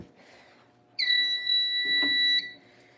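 A fire alarm sounds a steady, loud electronic tone with a bright harmonic ring for about a second and a half, then cuts off, with faint room noise before and after.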